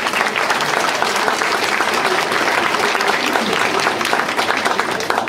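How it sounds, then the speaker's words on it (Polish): Audience at a sea-shanty festival in Włoszczowa bursts into sustained, dense applause for event sponsors, a steady wash of clapping with some crowd noise throughout. "Gorące brawa!"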